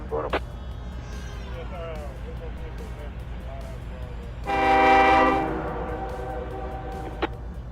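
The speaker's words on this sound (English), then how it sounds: "Let us get a full scope of this horn." A locomotive horn sounds in the Trainz railroad simulator game, one brief blast early followed by a louder sustained chord blast in the middle, over a steady low rumble of the train.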